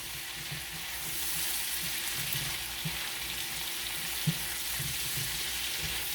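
Onions, peppers and mushrooms frying in a pan, a continuous lively sizzle and crackle with occasional stirring knocks and scrapes, close and steady throughout with no talking.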